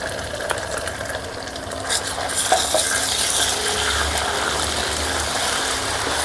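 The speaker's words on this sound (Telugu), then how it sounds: "దీన్ని పచ్చి వాసన పోయేంత వరకు కొద్దిగా ఫ్రై చేసుకుందాం ఇలా బాగా కలుపుతూ ఫ్రై చేసుకుందాం" Ginger garlic paste fries with carrots in a pan while being stirred, a steady bright sizzle and hiss with light scraping and occasional clinks, close and continuous with no talk.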